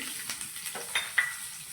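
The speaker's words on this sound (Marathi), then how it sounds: "यात घेतलेल्या सगळ्या भाज्या घालू, गाजर, ढोबळी मिरची," Carrots, bell pepper and onion sizzling as they stir-fry over high heat in a pan for dhaba-style veg Hakka noodles, a steady close frying hiss with a few clinks of the spatula.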